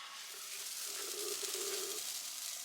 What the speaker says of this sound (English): I've just put 2 more on. Listen to that sizzle.